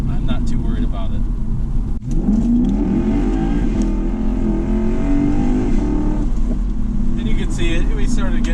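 A 2008 Lexus IS F sedan accelerates hard on the road, its V8 engine note rising steadily in pitch through the gears, loud and close inside the cabin while someone talks over it.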